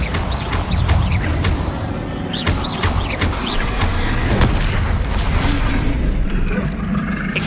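Bombarda explosive spells in Hogwarts Legacy blast repeatedly in a dense, loud battle, with booming impacts, crashing debris and sharp magical zaps overlapping throughout.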